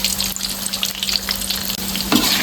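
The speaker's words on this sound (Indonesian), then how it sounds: "Sambil diaduk perlahan ya teman-teman agar merata matangnya" Tofu frying in a pan and being stirred slowly, producing a loud, continuous close-up sizzle with scraping from the stirring utensil.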